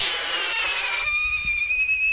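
A pyrotechnic bird screamer used at an airport, mimicking a screaming firework: a bright, rising whistling shriek that settles into a steady high tone and fades, heard alone.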